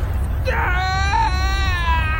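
An infant cries loudly in a sustained, wavering wail, heard in a children's TV show scene aboard a space shuttle, with a steady low rumble underneath.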